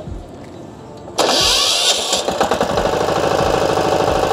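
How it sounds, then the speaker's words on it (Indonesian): An electric starter cranks a mini four-wheel farm tractor engine, which catches suddenly and settles into a loud, close, steady chugging idle with a rhythmic knock. "Dan di starter karena ini kan pakai electric starter."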